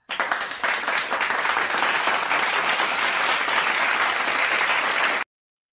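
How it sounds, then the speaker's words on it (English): A sustained round of applause, dense and loud, with many hands clapping steadily for about five seconds before cutting off abruptly into silence. "Let me give you a round of applause for that, man"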